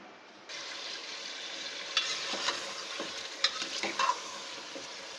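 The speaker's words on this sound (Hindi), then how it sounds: "ये देखें चिकन जो है अच्छी तरीके से भुन रही है तेल में" Chicken frying in oil with ginger garlic paste, black pepper and cinnamon, a soft, steady sizzle broken by a few sharp clinks and scrapes of a spoon stirring in the pot.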